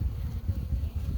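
Honey bees buzz in an open hive above the queen excluder during a honey harvest, a close low droning hum that pulses slightly without pause.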